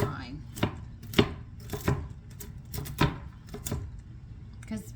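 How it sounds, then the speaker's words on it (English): A knife chops toasted pecans on a board in a dozen or so uneven, crisp knocks, close and fairly loud, while a voice murmurs faintly underneath. "I'm just going to chop them a little bit"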